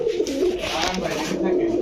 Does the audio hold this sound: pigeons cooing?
yes